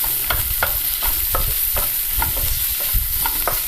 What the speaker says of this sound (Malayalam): വെളുത്തുള്ളി, ഇഞ്ചി, സവാള എല്ലാം കൂടെ ആ എണ്ണയിൽ കിടന്നൊന്ന് മൂത്ത് കിട്ടണം.